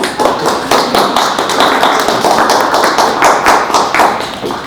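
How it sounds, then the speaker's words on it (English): Applause from a small audience at a fireside chat, steady dense clapping from many hands filling the room, fairly loud and sustained without talk. "can we give them a round of applause?"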